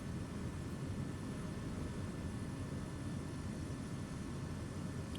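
A propeller aircraft engine drones in a flight simulator over Papua New Guinea highland bush strips, a steady, even hum throughout at moderate level with no talk.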